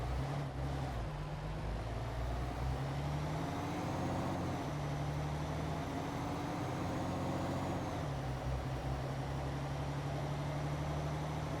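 A heavy truck engine in Euro Truck Simulator 2 rumbles steadily, a low droning idle that swells slightly as the truck begins to pull away, close and continuous.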